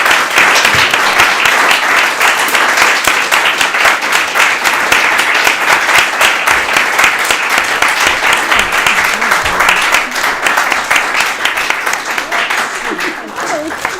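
Audience applause for two poets at a poetry reading, sustained, dense clapping filling the room for over ten seconds and thinning slightly toward the end.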